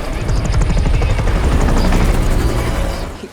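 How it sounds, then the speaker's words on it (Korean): A military helicopter thunders steadily overhead in a chase, its dense rotor roar loud and continuous throughout, fading slightly at the very end. "하지만 이때 군 헬기가 찾아와 이들을 추격합니다."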